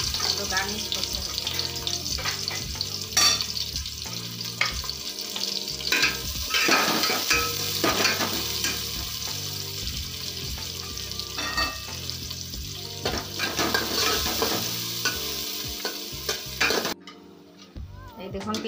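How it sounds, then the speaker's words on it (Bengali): Onions frying in a pan for a garnish, a steady sizzle and crackle throughout with occasional clinks of stirring, a brief splash of running water near the end. "এবার আমি পেঁয়াজগুলোকে একটু লাল করে ভেজে নেব"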